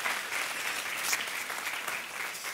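A church congregation applauds loudly, a dense, continuous burst of clapping from a crowd that holds steady throughout with no talk on top.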